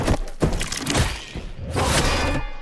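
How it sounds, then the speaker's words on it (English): Redesigned scene sound effects with whooshes enabled: a quick run of loud swishing whooshes mixed with sharp cracks, thuds and breaking impacts, dense and close, no talking. "So I will play through this redesign first with all the whooshes enabled"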